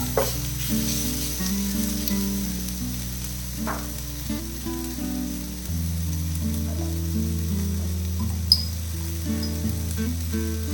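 Squid and tomato frying in a pan, a steady close sizzle with occasional stirring clinks and no talking.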